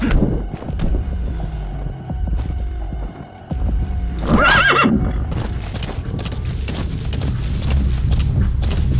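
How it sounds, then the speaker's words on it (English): A horse in Metal Gear Solid 5 gives a single loud whinny midway through, set against game ambience with clip-clop hoofbeats and a low throbbing hum. "Use your horse."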